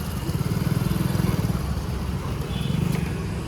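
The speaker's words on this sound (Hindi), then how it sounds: "पापा यहाँ पर गाड़ी पार्क करने जा रहे।" A car engine runs steadily at low speed as it pulls into a parking spot at Lake Shore Mall in Hyderabad, with a close, pulsing rumble throughout and no one speaking.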